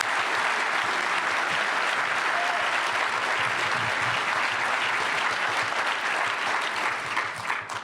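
A lecture audience at the 17th Annual Barbara K. Olson Memorial Lecture claps in a thick, continuous wave of applause that holds steady for several seconds before thinning slightly at the end.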